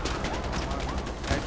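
Gunfire in the Far Cry 4 video game, a dense continuous fusillade of rapid shots filling the whole moment with no clear gaps, loud and close.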